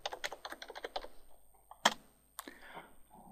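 Typing on a computer keyboard while working in the R statistics software: a quick run of close, crisp key clicks, then a few sharper isolated presses and a pause, with no one talking.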